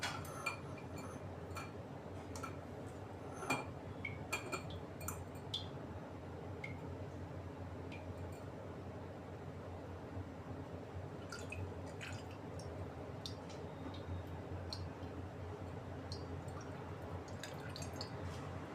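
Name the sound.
straining homemade ghee into a glass jar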